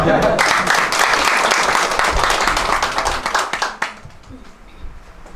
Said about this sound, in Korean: 박수 한번 쳐드릴까요?